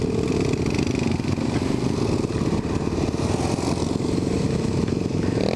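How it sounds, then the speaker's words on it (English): A Chinese-made Giovanni dirt bike rides offroad with a loud, close, buzzing engine drone that holds steady throughout, with light rattling and no talking. "That's one of those Chinese-made Giovanni dirt bikes."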